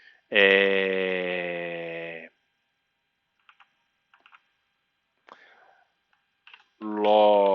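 A few sparse, soft keystrokes on a computer keyboard fall in a pause between stretches of someone talking.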